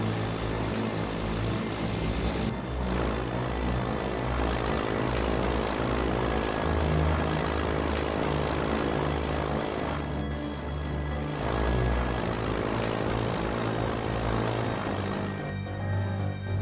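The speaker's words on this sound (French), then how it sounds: "Bombardier en route." Bomber aircraft engines drone in a WWII-era strategy game, a loud, continuous propeller hum that holds steady with slight pitch shifts, alone without speech.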